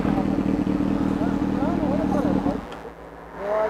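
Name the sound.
motorcycle engine making a strange noise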